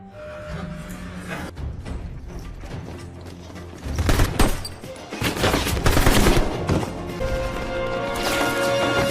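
Bursts of gunfire and crashing impacts ring out over a tense cinematic backdrop in a film shootout scene set in a warehouse, with loud volleys clustering toward the middle.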